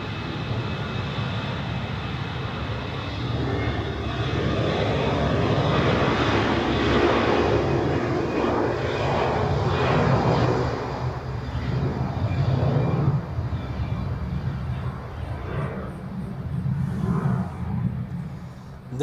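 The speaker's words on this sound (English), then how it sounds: "That was EasyJet to London Gatwick." EasyJet jet airliner departing Zurich Airport for London Gatwick, a long, loud rumbling engine roar that swells and then slowly fades into the distance.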